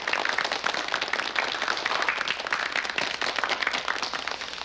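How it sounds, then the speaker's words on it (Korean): Audience applause on a Seoul television broadcast, honoring the bow-tied guest Dr. Cha Jin-young, known as Elvis Cha. Dense, steady clapping from a full room runs unbroken throughout, with no voices over it. "여러분 오늘 이른 시간 이렇게 자리 내주신 차진영 박사님께 박수 부탁드리겠습니다"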